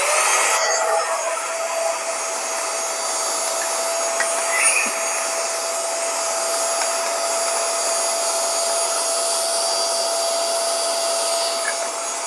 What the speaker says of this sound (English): So I got this tiny vacuum cleaner from AliExpress.